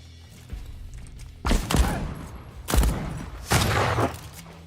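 Three loud, broad bursts of video-game gunfire, each a sharp report with a short decaying tail, spaced about a second apart over low background noise.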